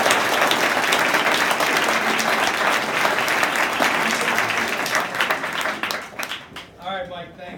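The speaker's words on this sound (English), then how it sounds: "everybody give a round of applause for Mike" Sustained audience applause at a real estate education day event, dense clapping from a large crowd that holds steady for most of the stretch before thinning out near the end.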